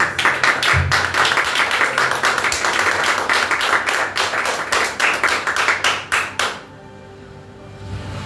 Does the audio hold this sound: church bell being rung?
no